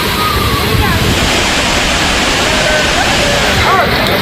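Hogenakkal waterfall crowded with bathing tourists, a steady broadband roar of falling water throughout, with faint crowd voices mixed beneath the rushing.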